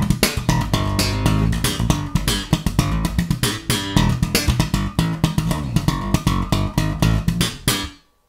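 Slap bass riff played at full speed, dense percussive slaps and pops in a fast steady rhythm, loud and close for about eight seconds before stopping abruptly.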